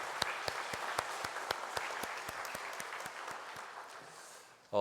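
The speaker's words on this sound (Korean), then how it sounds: "우리 하나님 앞에 큰 영광의 박수 올려드리겠습니다." Church congregation applauding after a closing prayer at a Friday mission prayer meeting, a steady wash of many hands clapping with sharp rhythmic claps standing out, fading toward the end before a sudden loud burst.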